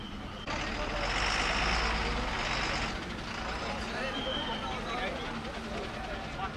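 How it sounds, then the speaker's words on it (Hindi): A bus pulls away from the stop on a new daily route out of Jammu. A loud diesel rumble and hiss of air brakes run steadily beneath crowd chatter and voices nearby. "ये बस जम्मू से शुरू होगी और रोज़ सुबह शाम आया करेगी। यहाँ से अब जा रही है"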